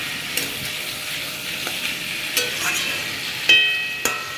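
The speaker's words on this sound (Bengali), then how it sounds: "ঢাকনাটা খুলে একটু নেড়ে নেব, মাঝে সাঝে একটু নেড়ে নিতে হবে যাতে ভালোভাবে সবটা সেদ্ধ হয়।" Potatoes cooking in a pan have their lid lifted and get stirred, a soft steady sizzle broken by a few sharp clinks and scrapes of a utensil, close and without talk.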